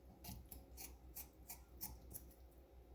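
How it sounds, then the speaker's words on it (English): Kitchen scissors snip through chicken lollipop meat in a series of quiet, crisp cuts spaced about every third of a second, close by and with no talking. "And then you want to use scissors"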